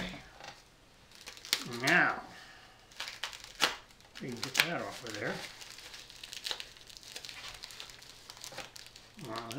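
Tape ripping and packaging crumpling during an unboxing of a WW2-era J38 telegraph key, close and irregular crinkles and tears with someone talking intermittently over them.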